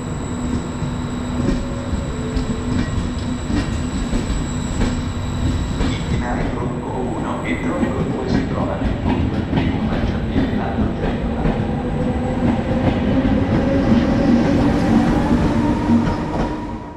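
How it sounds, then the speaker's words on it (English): A Vivalto train departs Savona station toward Ventimiglia, with a steady rumble of rolling wagons, clicking wheels over rail joints and a rising whine as it picks up speed, nearby and continuous. "take a look at the departure of my Vivalto train here in Savona"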